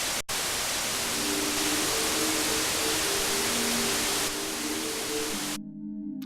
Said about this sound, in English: that was a lot of white noise